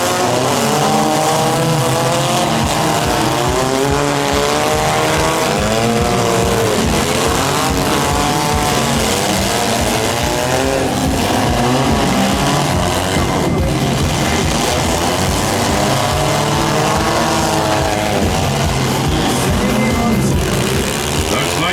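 Loud, continuous roar of several demolition derby car engines revving and idling up close, rising and falling in pitch throughout.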